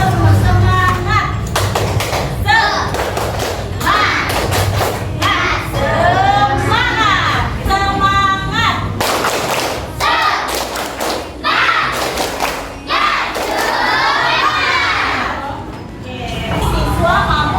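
A class of children performs a clapping cheer in a schoolroom, loud rhythmic hand claps and thumps in bursts mixed with excited shouting and chanting voices close by.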